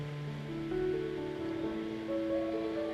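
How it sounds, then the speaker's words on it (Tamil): A pot of water with pathimugam bark at a rolling boil gives a steady, close bubbling roar that stays even throughout. "இப்போது கொதிச்சு வந்துருச்சு."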